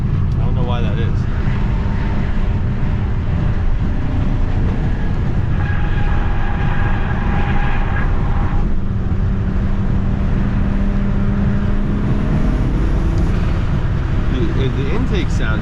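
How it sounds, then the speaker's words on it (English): A BMW M6 fitted with a new exhaust drives along, a loud constant engine drone and road rumble with intake flutter, while someone talks over it. "The intakes are louder because the car is more quiet, so you can hear the intakes more now"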